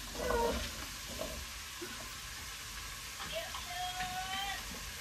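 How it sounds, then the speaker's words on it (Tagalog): Chayote sizzling as it sautés in a hot pan, a steady frying crackle with scattered pops and a brief whistling tone near the end, heard at moderate distance with faint voice traces underneath. "At ginigisa ko din po yan."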